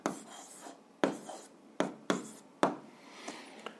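A marker writes on a board in a physics lesson, giving several sharp, close squeaky strokes in an irregular rhythm, each fading quickly, with short pauses between them.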